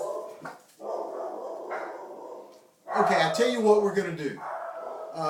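Dogs bark and yip in a loud cluster near the middle, mixed with whimpering, while a person talks before and after.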